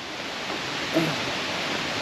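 Waterfall in Laos heard as a steady, dense rush of falling water, constant and fairly loud throughout with no pauses.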